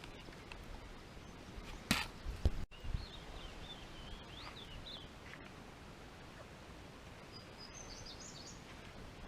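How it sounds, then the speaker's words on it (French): Faint birdsong, with a few high, distant warbling calls, rises over soft forest ambience along a jungle path, alongside a couple of sharp chopping knocks early on. "Il y a beaucoup d'oiseaux, on les entend là."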